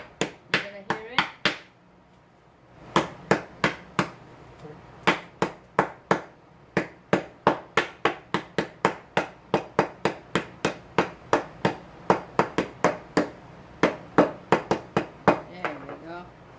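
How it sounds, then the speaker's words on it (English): Whole black peppercorns being smashed: sharp, repeated cracking and smashing hits, close up and loud, coming in quick uneven bursts with a short pause near the start. "I like to use the whole black peppercorn, this, but I actually kind of smash it."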